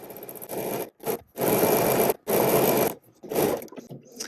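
A sewing machine runs in bursts while topstitching a stretchy dress, several whirring stitching runs separated by short pauses, close and fairly loud.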